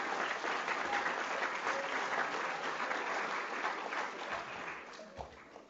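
Sustained audience applause at a Pro Football Hall of Fame event honoring Franco Harris, a steady dense wash of many hands clapping at moderate distance, tapering slightly near the end.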